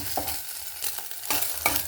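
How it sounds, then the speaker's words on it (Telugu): Egg frying in hot oil in a pan gives a steady soft sizzle, broken by a few brief scraping stirs of a utensil. "నేనైతే ముందు ఎగ్ వేసాను ఎగ్ రోస్ట్ చేస్తున్నాను"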